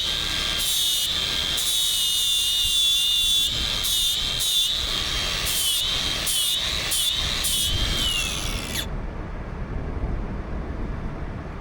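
A power tool grinds steadily and loudly against the metal teeth of a forestry mulcher rotor, sharpening a new cutting edge with a high whining scrape and rhythmic pulses as each tooth is worked, cutting off abruptly near the end.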